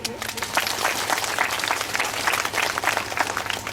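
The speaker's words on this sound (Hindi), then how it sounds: "हम तालियां बजाएंगे" Applause from a congregation inside a church during a Thanksgiving First Holy Eucharist, a steady wash of many hands clapping close by, sustained throughout.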